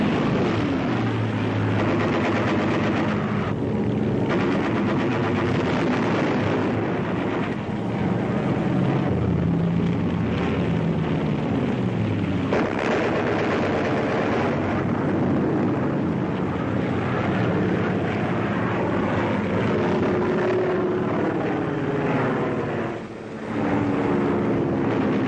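British warplanes attacking in formation produce a continuous, dense engine and propeller roar that fills the whole stretch, loud and unbroken, with a slight dip near the end.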